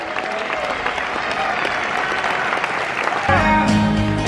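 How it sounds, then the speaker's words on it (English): Loud sustained applause from a ballroom dance championship crowd, clapping dense and continuous for about three seconds before music starts up and a voice comes in over it. "Massive round of applause for each of our couples for their Foxtrot."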